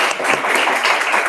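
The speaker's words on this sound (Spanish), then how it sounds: "un aplauso para todo el semillero" An audience claps without a break at an astronomy colloquium. The dense applause is loud and close and runs through the whole short moment.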